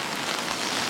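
Steady rain falls outside a convenience store in Japan on a thru-hike route, a dense, even hiss of drops striking surfaces all around, constant and fairly close, with no voices.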